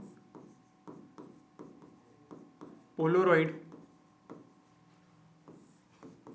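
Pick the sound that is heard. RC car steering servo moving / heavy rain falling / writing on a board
writing on a board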